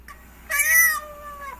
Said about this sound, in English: Can you think of something that says meow?